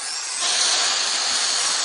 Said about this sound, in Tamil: கவலைப்படாதீங்க மிஸ்டர் நொஹாரா, இது உங்க கட்டை மட்டும் தான் கட் பண்ணும்